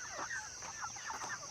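Cornish Cross meat chickens on organic feed and pasture cluck softly in a brief, faint burst of overlapping calls over a steady high background hum.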